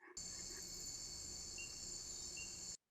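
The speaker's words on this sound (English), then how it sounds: "These are all insects calling." Dense night chorus of insects, mostly crickets, trilling steadily and continuously at high pitch in a tropical forest, with faint low background rumble and no voices.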